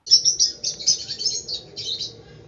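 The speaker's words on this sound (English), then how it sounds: "The first bird that I chose as a good apartment bird is none other than the lovebird." Lovebird chirping in a quick run of short, bright tweets, fairly close and steady, alone with a low hum beneath.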